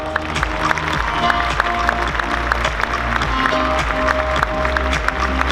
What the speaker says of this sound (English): Huge round of applause for Ropa Muerta.